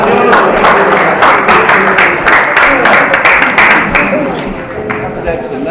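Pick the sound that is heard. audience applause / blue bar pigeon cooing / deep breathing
audience applause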